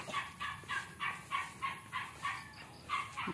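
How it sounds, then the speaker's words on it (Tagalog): Many chickens on a farm give a steady run of about nine rhythmic clucking calls, evenly spaced and moderately close, with no talking. "Kaya kanila daghan kag manok."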